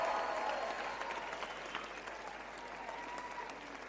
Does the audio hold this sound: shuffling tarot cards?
no